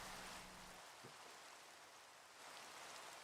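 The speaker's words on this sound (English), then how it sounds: "I hate that it's raining." Steady hiss of rain falling in the Minecraft video game, an even broadband wash of drops running continuously at low volume with no voices over it.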